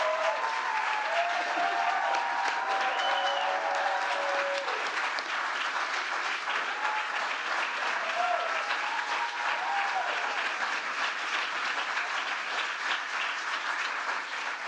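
Sustained applause from a large audience at a presidential nomination event fills the whole stretch, steady and dense, with a few voices calling out faintly underneath.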